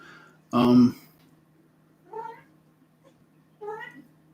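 A house cat meows three times indoors, first a loud drawn-out cry and then two softer, shorter calls spaced about a second and a half apart, close to the microphone against a faint steady hum.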